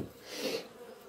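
Honeybees swarm around an open hive being inspected, giving a dense, steady buzz close by that swells slightly midway, with no voices.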